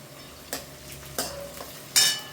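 Onions sizzling in a hot pan for chicken biryani, with a few sharp stirring scrapes and clinks of a utensil punctuating the quiet frying.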